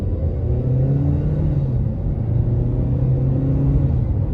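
A 2020 Kia Sportage LX accelerates in eco mode down a back road, heard from inside as a steady, fairly loud low engine drone and road rumble with slowly rising tones. No one speaks.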